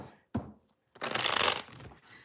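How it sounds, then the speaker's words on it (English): Cards of a tarot deck shuffled close up, a quick papery flick followed by a longer, louder riffling burst lasting about a second, with no voices. "I'm feeling like I need to pull from my Shuffle Tarot deck for you guys. It's kind of like shuffle, shuffle."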